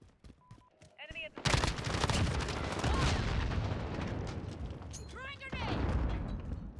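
Dense, sustained gunfire from a zombie shooter video game roars for several seconds as a loud, continuous barrage, with a voice talking over it.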